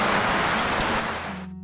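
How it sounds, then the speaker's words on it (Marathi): A torrential monsoon downpour with strong gusting wind makes a dense, loud, continuous hiss and roar that holds steady and then cuts off abruptly at the end, with no talking. "आणि पाऊस आता तर मुसळधार पाऊस चालू झालाय"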